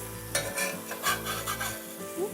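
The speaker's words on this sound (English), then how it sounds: "I'm gonna do a quick flip with the tomatoes." Tomatoes sizzling in a hot pan as they are flipped, a loud steady fry with a few sharp scraping stirs and a brief metallic clink.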